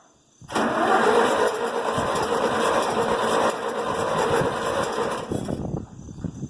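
An IH Farmall 706 tractor engine with a new carburetor runs with the choke on, a loud, steady close-up drone that starts abruptly and holds for about five seconds before dropping away, with no talk.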